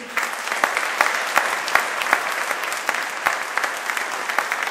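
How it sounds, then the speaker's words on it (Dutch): Audience applause at a live stage show, steady dense clapping from a crowd that holds throughout with sharp individual claps standing out, fairly close and loud. "En dan wil ik nog één keer heel, heel hard die handen op elkaar voor mijn charmante assistente van vanavond."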